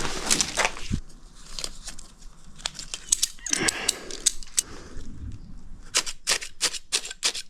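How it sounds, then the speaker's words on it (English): A ratchet strap is worked to pull a basement wall into level, giving a series of sharp clicking ratchet strokes in irregular bursts, close and loud, with some handling noise between. "After a bit of back and forth with the ratchet strap and the cinder block"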